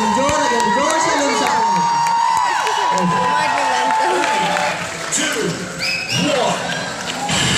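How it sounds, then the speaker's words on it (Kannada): A festive crowd at a film team's appearance during a college cultural fest cheers, whoops and claps loudly and continuously, with shouting voices mixed throughout. "ಎಲ್ಲರೂ ಚಪ್ಪಾಳೆ ತಟ್ಟಿ ಪ್ರೋತ್ಸಾಹಿಸಬೇಕಾಗಿ ಕೇಳ್ಕೊಳ್ತಾ ಇದ್ದಾರೆ"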